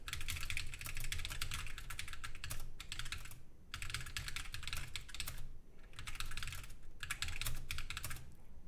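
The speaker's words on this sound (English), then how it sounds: "how well can I type on this keyboard now?" Fingers type on a Keychron Q15 Max ortholinear mechanical keyboard in quick clattering runs of keystrokes, close and steady, broken by a few brief pauses.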